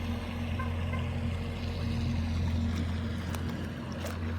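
A CAMRAD 800 fishing bait boat with a Falcon 5010 motor cruises steadily along the shoreline on open water, giving a continuous, even motor hum with light water noise and no voices.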